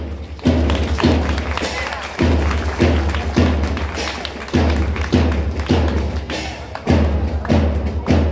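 Students seated in the gallery at a school's annual sports day clap in loud, steady unison, with thumping beats repeating at an even pace roughly every half-second for several seconds.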